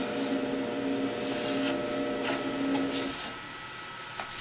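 An Epson F2100 direct-to-garment printer printing a shirt gives a steady mechanical hum with a faint whine that eases off after about three seconds, close by with no talk.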